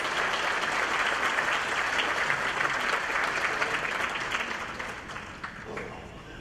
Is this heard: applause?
yes